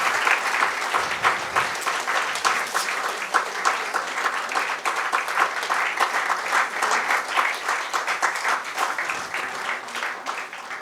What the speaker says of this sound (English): The clap should not be stopping.